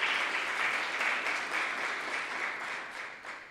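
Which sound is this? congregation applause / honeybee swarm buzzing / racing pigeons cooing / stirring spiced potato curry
congregation applause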